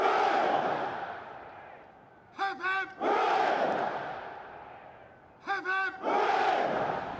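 A large crowd outside Buckingham Palace roars for a royal salute on King Charles's coronation day, the loud cheer swelling and fading twice, each time broken by short, sharp shouted calls before the roar rises again.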